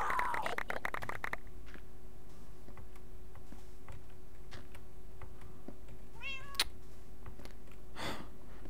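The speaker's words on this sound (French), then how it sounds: "Chat de merde." A cat meows in the Minecraft video game: a quick rising-falling mew near the middle, then a longer drawn-out meow shortly after, both fairly clear over faint game ambience following a brief burst of clicks at the start.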